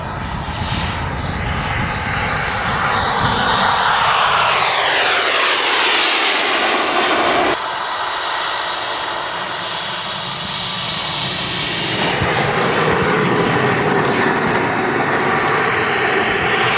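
Small model jet aircraft at a model flying club's outing, its turbine roaring loud and steady with a high whine, sweeping past and changing pitch as it flies, continuous throughout.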